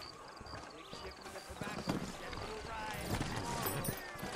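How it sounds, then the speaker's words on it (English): Horses clip-clopping in the Western video game Red Dead Redemption, a soft, fairly steady patter of hooves in the background under spoken dialogue. "You ain't gonna find sturdier horses than these in all of New"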